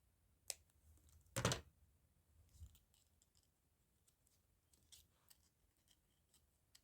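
Scissors snipping paper leaves for a handmade card, quiet and close, with one sharp cut followed by a few softer scattered snips and rustles.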